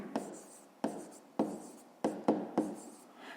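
Pen or marker strokes on paper or a board during a Ukrainian 5th-grade maths exercise, five sharp taps each trailing into a short scratchy drag, close and fairly quiet, no talking over them.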